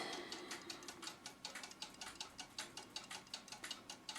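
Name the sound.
Art Deco Mauthe alarm clock and cuckoo clock ticking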